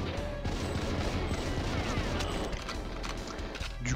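Rapid gunfire fills the GoldenEye video game, with dense bursts of shots continuing throughout, loud and close, with no talk over it.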